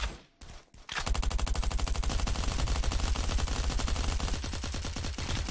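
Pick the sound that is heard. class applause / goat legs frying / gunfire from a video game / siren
gunfire from a video game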